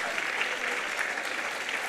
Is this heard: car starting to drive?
no